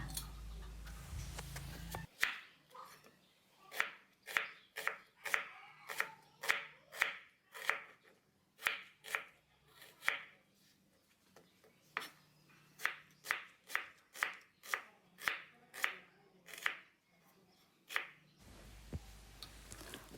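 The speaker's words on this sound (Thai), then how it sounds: "หั่นปูอัดเสร็จแล้วก็ไปหั่นหอมหัวใหญ่ต่อค่ะ" A knife chops an onion on a cutting board in a steady series of sharp, crisp taps, close and fairly quiet, with a few short gaps.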